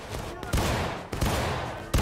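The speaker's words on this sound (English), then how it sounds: "open fire!" Civil War musket volley in the first-person shooter War of Rights, repeated loud booming rifle discharges in quick ragged succession, close and echoing, with shouted voices among the shots.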